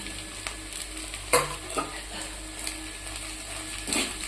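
Sabudana being stirred with chopped coriander in a frying pan, a steady close scraping and soft sizzle with a few louder spoon knocks, no talking.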